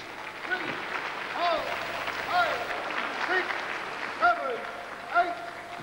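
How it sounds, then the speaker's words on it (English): A crowd at a wrestling bout in Hereford Leisure Centre applauds steadily at a moderate distance, a continuous patter of clapping underneath a commentator's voice that runs throughout. "applause from the crowd here at the Hereford Leisure Centre, congratulating him on not submitting from there"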